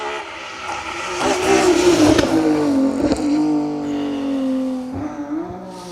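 A rally car engine roars and revs loudly nearby on an asphalt rally stage, its pitch sliding down then climbing again as it accelerates past, harsh and continuous throughout.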